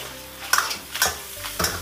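Meat stir-fried over high heat in a wok with light soy sauce, a low steady sizzle broken by three sharp scraping strokes of the spatula against the pan.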